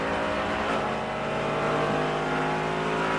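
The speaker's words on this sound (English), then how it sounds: "Coming by the 4th place GT car" A GT race car roars past at the 2011 Grand-Am Grand Prix of Miami, a loud, sustained engine howl with steady revving and no voices.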